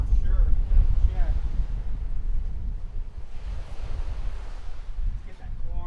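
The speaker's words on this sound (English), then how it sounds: "I told you it's darn windy out here right now." Strong wind buffets the microphone in a constant low rumble, gusting unevenly throughout with no other clear sounds.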